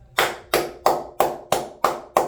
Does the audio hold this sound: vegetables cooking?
no